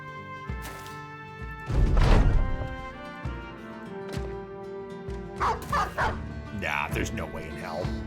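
A war dog in Battle Brothers barks repeatedly in short sharp yips amid game music and combat thuds, with a burst of clashing around two seconds and a voice talking over parts.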